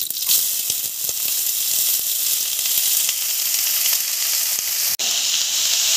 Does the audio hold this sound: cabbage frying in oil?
yes